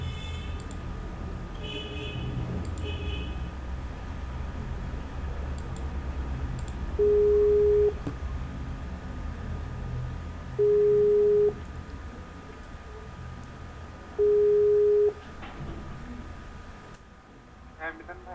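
Three evenly spaced, steady ringback tones of a telephone call, each about a second long, sound over a low background hum with faint clicks and no talk.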